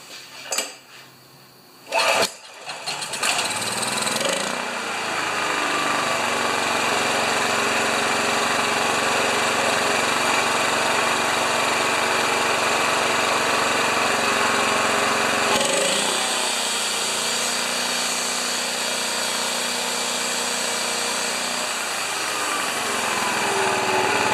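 A small engine starts after being choked, with a few knocks and a rough catch, then settles into a steady, loud, close, high-pitched idle that shifts slightly partway through and keeps droning with no one talking over it.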